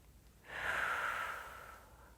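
A single steady breath out during a cool-down stretch, soft and airy, swelling then trailing off over about a second and a half, close and alone.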